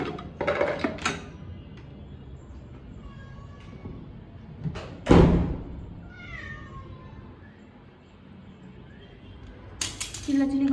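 A pet cat named Tunituni meows loudly and repeatedly at home, the insistent cries arriving in separate bursts, one of them very loud, with a thud like a door in between and a voice talking now and then.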